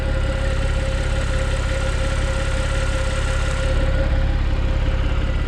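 A Porsche 911 Carrera 4S 997.2 with a direct-injected 3.8-litre flat-six and 385 horsepower idles steadily, a close, even low hum and rumble with no voices, holding constant throughout.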